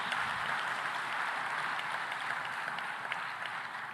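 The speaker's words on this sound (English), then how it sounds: "So a warm round of applause to Tanzania for their fantastic hospitality." Sustained, steady crowd applause at a Tanzanian food systems forum hall, a dense wash of clapping lasting the full four seconds at moderate, distant-sounding level with no speech over it.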